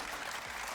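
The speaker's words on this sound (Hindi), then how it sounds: "तालियां बजाओ मेरे लिए" Brief burst of audience applause at an Urdu-language entertainment talk show, dense and steady clapping throughout a short stretch with no voices standing out.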